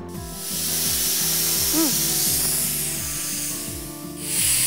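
A pressure cooker cooking beef malai handi releases its whistle as a loud, continuous rush of hissing steam that fades briefly and then surges again, with music playing underneath.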